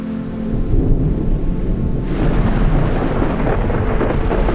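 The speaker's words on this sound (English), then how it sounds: "The Mediterranean greets us with a storm." Thunderstorm at sea on the Mediterranean: a low, rolling rumble of thunder swells and holds as steady rain and wind hiss build across the whole span, loud and close with no voices.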